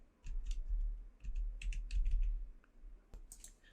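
Close, soft keyboard keystrokes tap out a short run of irregular presses as a six-digit trading password is entered, with a sharper click near the end.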